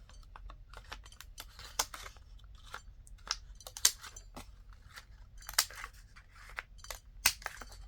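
Paper card corners being rounded with a corner rounder punch, a series of sharp, close clicks and crunches at irregular intervals with no talking.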